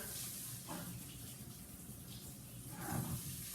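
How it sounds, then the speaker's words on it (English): Cold tap water runs steadily into a sink, a continuous hiss with faint shifts as tomatoes in a colander are rinsed under the stream. "I'm gonna rinse these off. Okay, cold water."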